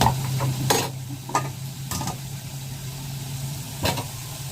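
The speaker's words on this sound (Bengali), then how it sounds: "আর এদিকে তেল গরম হয়ে গেছে, আমি আলুটা ভেজে নেব।" Potatoes frying in hot oil on a home stove, a soft steady sizzle under a low background hum, broken by a few short sharp scraping stirs.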